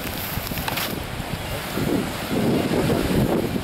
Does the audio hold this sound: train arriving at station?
no